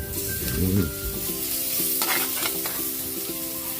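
Ginger and garlic fry in hot oil in a pan, a continuous close sizzle with stirring scrapes and a few spatula knocks, loud and steady with no talk.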